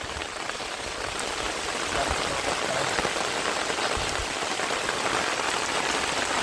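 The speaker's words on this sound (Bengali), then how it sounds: "বৃষ্টি শুরু হয়ে গিয়ে তো খামারের দিকে যাই চলেন দেখি না বৃষ্টিতে ভিজে যাচ্ছি" Steady heavy rain pours down on a farm, a dense, even hiss of drops on surfaces that holds without a break throughout, with no voices.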